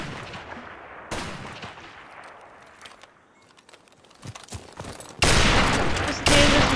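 Video game gunfire in Call of Duty 4 during a one-on-one match: sharp shots and bursts, loud and close, with quieter clicks and crackle between them and two heavy, sustained volleys at the end.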